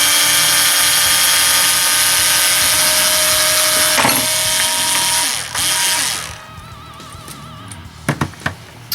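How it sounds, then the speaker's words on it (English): An electric screwdriver whines steadily and loudly at close range while removing engine case screws on a Suzuki RF 600/900 motorcycle. It cuts out after several seconds, followed by a few sharp metallic clicks. "I'm going to use my electric screwdriver"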